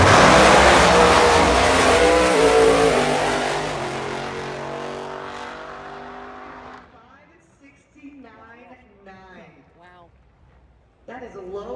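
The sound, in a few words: drag racing car making a run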